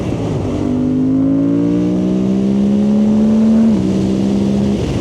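A Suzuki GSX-8R sport motorcycle engine revs up in rising steps, then briefly dips as it shifts gear and climbs again, loud and steady throughout.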